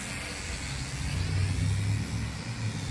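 An MJX X400 drone whose rotors sound rough, as if something is stuck, gives a coarse, low droning whir that swells in the middle of the clip. No talking.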